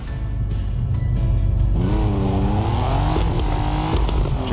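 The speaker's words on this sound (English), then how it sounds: "Japan Highway Traffic Online offers a realistic simulation of driving on Japanese highways" A car engine in the Japan Highway Traffic Online driving game hums steadily, then its pitch rises through a revving acceleration. The sound is loud and continuous, with no voices over it.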